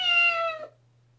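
A single close, clear cat meow from the Phoenix Wright game, a bright rising-falling cry under a second long that cuts off into near silence with a low steady hum.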